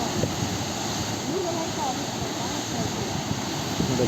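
Water rushing through the opened gates of the Bhadra dam near Chikkamagaluru, a steady, loud, broadband roar that fills the whole clip with a few faint voices underneath.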